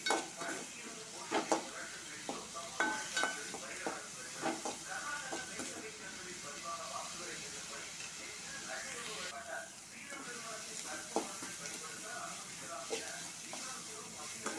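Chopped big onions sauté in a pan until golden brown, a soft steady sizzle broken by frequent clinks and scrapes of a spoon stirring against the pan.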